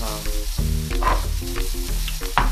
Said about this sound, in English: we want to get them sauteing